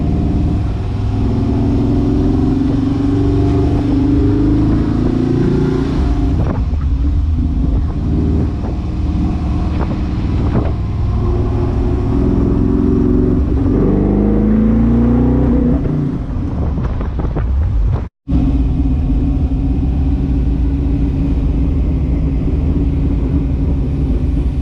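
A small Chevy car's engine running steadily after refuelling, with a loud continuous low rumble and a few revs rising and falling, then a brief cutout near the end before it carries on.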